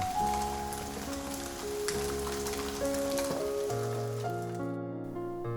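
Chicken pieces fry in a pan with a steady, continuous sizzle and crackle, partly under background music playing throughout.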